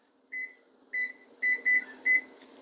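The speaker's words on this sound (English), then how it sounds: "I like to set a timer to remind myself" A kitchen timer being set while bechamel cooks gives five short, bright electronic beeps: two spaced apart, then three in quicker succession, clear and close over a faint room hum.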